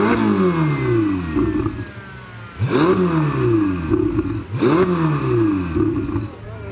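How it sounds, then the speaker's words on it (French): Ferrari engine with its exhaust valves open, revving hard in a loud rising and falling roar that climbs in repeated sweeps with brief throttle lifts in between, very close and dominating. "le bruit de la Ferrari, c'est un truc de malade mental"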